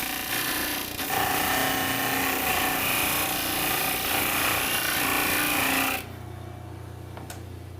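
An electric grinder works on a metal chassis part, a loud steady whining grind running continuously for about six seconds before cutting off to quieter room noise.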